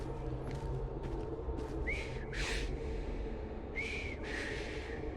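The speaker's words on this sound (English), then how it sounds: "I've just learned to whistle." Whistled notes from a character in the Assassin's Creed Syndicate video game, several short rising tones in two bursts over a steady low background hum, with no talking.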